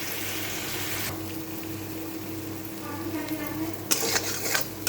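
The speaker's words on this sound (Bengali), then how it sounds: "আদা, জিরে আর লঙ্কা, এটা ভালো করে ভাজা হোক।" Ginger, cumin and green chili fry in a pan with a steady hiss that softens after a moment, followed by a few scrapes and clinks of stirring near the end.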